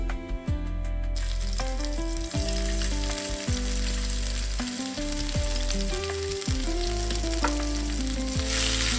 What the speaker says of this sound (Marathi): आता मी टाकणार आहे आलं लसूण आणि मिरची जी मी ठेचून घेतली होती